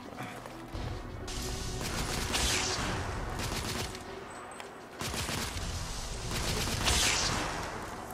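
Gunfire from The Order 1886 video game: dense bursts of rapid shots and volleys, loud and continuous through most of the stretch with a brief lull near the middle, no talk over it.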